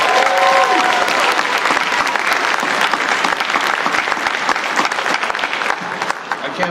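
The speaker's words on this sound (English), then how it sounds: "One more round of applause for David, everybody." Sustained applause from a convention crowd at a voice actors' panel, loud and continuous throughout and fading slightly at the end.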